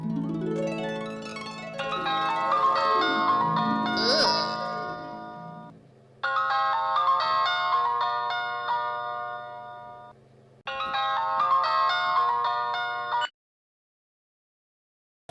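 Mobile phone ringtone playing as a call goes through, a melodic electronic tune repeating in three bursts separated by short pauses, clear and steady with no talk.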